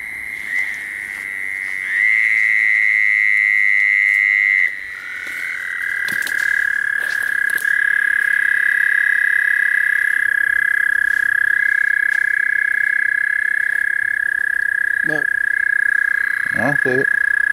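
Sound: bullfrogs and toads croaking

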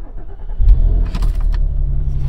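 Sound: car engine starting

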